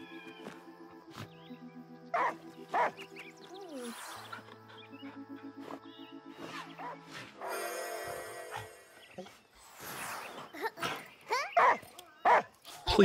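A dog in the video game Last Day of June yips, whimpers and barks in short scattered bursts, mixed with game music and sound effects, while a person talks over it.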